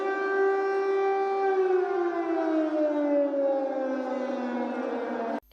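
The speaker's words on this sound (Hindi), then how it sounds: "इस सायरन का मतलब शहर के लोगों को अलर्ट करना होता है, ताकि हवाई हमलों से पहले लोग बंकर और दूसरे सुरक्षित ठिकानों में चले जाएं।" An air raid civil defense siren wails over Kyiv, one long sustained tone that slowly falls in pitch, loud and carrying, before cutting off abruptly.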